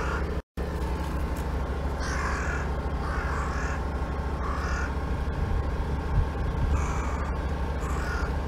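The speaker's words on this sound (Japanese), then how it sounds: "カラスが喧嘩してるよ。" Several crows squabble and caw at a highway parking area, repeated harsh calls coming in bursts over a steady hum of background traffic.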